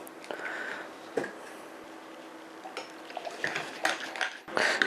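Egg batter being mixed in a bowl, quiet irregular clinks and scrapes of a utensil against the bowl with soft wet squelches, growing busier toward the end, with no talk.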